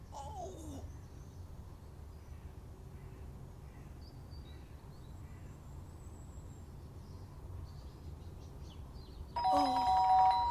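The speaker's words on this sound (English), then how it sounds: "But the doorbell had gone again." A doorbell chimes in the video game Fragments of Him, one bright ding-dong at the start and another louder ring near the end, over a quiet murmuring background.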